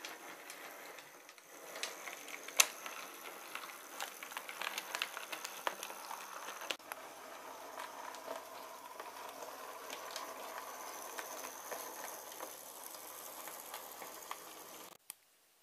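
A model of the steam locomotive Mallard runs on a layout, giving a quiet mechanical whirr with fine clicking and rail rattle, steady and faint, ending in an abrupt stop.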